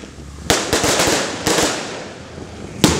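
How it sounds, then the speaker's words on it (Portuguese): Fireworks and firecrackers go off during a religious procession for São Sebastião, with a caravan of riders and a cart carrying the saint's image. Several loud, sharp bangs are followed by crackling over a noisy outdoor background. "os fogos chamam a atenção"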